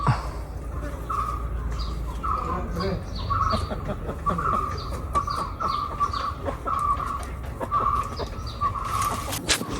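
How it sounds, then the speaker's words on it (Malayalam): Chickens cluck and call repeatedly nearby, with other birds chirping over an outdoor background murmur. "കോഴികൾ"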